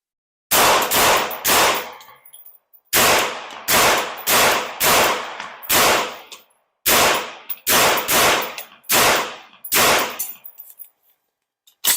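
Shots from a Bear Creek Arsenal 22 WMR rifle firing CCI Maxi Mag ammunition, sharp loud reports in quick strings of three to four with short pauses between groups, each crack ringing briefly.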